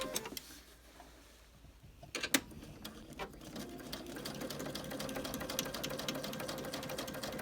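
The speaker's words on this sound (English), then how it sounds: "So I'm going to start at that corner and sew all the way across." A sewing machine stitching binding across a quilt at a short stitch length: a couple of clacks, then the motor starts and runs a fast, steady, close mechanical whir.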